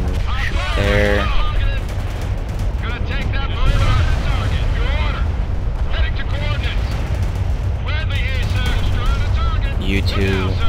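Battle in the World in Conflict video game, with tanks engaged: dense, loud gunfire and booming explosions roll on without a break, while voices talk over the fighting.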